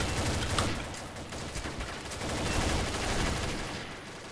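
Gunfire in the online shooter Combat Arms crackles in quick bursts, with rapid repeated shots and sharp reports layered over a dense, noisy game mix, fairly loud throughout.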